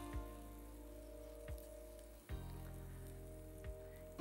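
Butter sizzling steadily in a heating frying pan, a soft continuous crackle with a few brief clicks and bumps, no voices.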